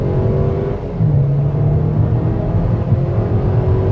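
A 2018 Mercedes GLA250 accelerates hard from 0 to 60 with its tires spinning, a loud, steady engine drone with rising whir and road rumble heard from inside the cabin, no talk.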